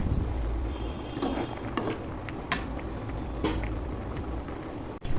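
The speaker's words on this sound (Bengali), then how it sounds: "ঝোলে বলক চলে এসেছে।" A curry broth bubbles at a boil with fish in a pot, a steady soft seething hiss with occasional small pops and clinks, close and fairly quiet with no talk.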